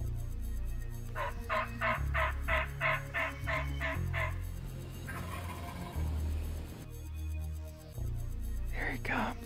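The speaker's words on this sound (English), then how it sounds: "he could see this gobbler coming" A wild turkey gobbler gobbles during a spring hunt in West Virginia woods, loud rapid rattling bursts over a low whispered voice, then another gobble near the end.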